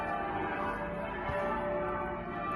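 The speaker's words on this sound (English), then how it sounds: "Bells are just on and off all night." Church bells ring on and off through the night near a castle, a steady, dense wash of tolling and overlapping tones that fills the whole clip with no voices.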